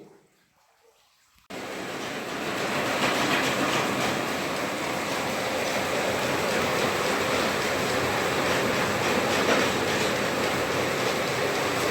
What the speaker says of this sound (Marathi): आडवे बोर घेणारी मशीन या ठिकाणी त्याच विहिरीमध्ये लावलेली आहे